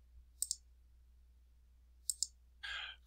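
Computer mouse clicks sharply in two quick double clicks, close and isolated, followed by a brief soft rustle.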